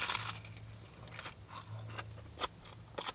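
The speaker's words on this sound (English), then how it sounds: "So you get the immediate crunch of the outside batter, which is really crunchy" Crunchy battered sausage from a long-established chip shop bitten and chewed up close, several crisp crackling crunches of the outside batter in quick succession, with a low hum underneath and no talking.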